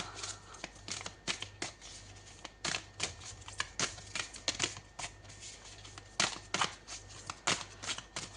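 Oracle cards being shuffled and drawn for a reading make crisp papery riffles and sharp flicking taps. They come in irregular quick bursts throughout, close and fairly quiet.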